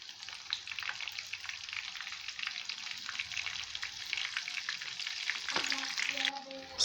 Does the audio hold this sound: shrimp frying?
yes